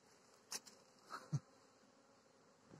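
Honey bees at a hive entrance carrying pollen on an April spring morning, heard as a faint, soft buzzing with a few brief wingbeat swells as bees fly close past, over a quiet background.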